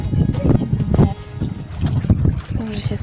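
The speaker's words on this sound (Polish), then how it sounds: "nam strasznie wieje" Strong wind buffeting the microphone at the seaside in Gdynia, a steady low rumble throughout with bursts of gusts, while people talk over it.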